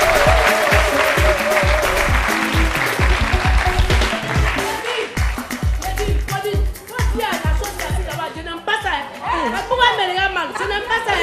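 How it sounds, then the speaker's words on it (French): An audience applauds two teams on a French entertainment game show, a burst of clapping mixed with chuckles and chatter that gives way to lively talking and laughter as the clapping fades. "On les applaudit, s'il vous plaît."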